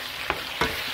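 Sweet onions being stirred into a pot of Jamaican-style cow's foot, giving two brief scraping, sizzling strokes about a third of a second apart, close and fairly quiet.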